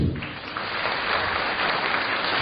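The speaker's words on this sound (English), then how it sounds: "let's have a round of applause for them" Steady, dense applause from an audience at a school annual concert and prize distribution ceremony, continuous and even throughout without any talk on top.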